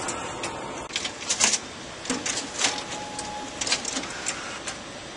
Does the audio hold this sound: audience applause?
no